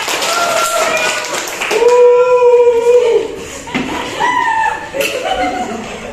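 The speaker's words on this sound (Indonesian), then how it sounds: "Tepuk tangan dulu ya." A fifth-grade elementary class in Indonesia claps along with a rhythmic chant, the hand claps blending into a steady broadband patter beneath loud children's voices throughout.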